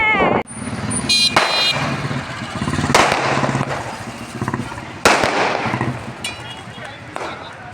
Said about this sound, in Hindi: यहाँ पर तो फूटे अभी पटाखे आपको मैंने दिखाए, पटाखे फूटते हुए